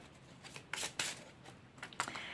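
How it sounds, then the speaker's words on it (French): Tarot cards being shuffled by hand, a few quick riffling bursts of crisp paper flutter close by, separated by short pauses, with no talking. "j'arrive plus à mélanger mes cartes"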